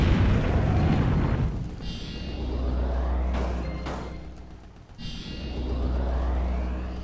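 Two deep, booming explosions as a cannon is destroyed in the video game Project Nomads, with long rumbling tails and sweeping whooshes, loud and heavy, separated by a brief lull; no talking.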